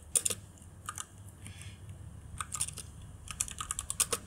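Code typed on a computer keyboard, close-up key clicks arriving in short irregular bursts with brief pauses between them, quiet, with no speech.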